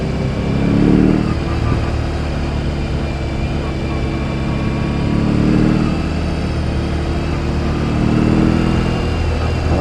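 A BMW R18 motorcycle on a test ride, steady loud engine drone under heavy wind roar, with several swells as the throttle opens.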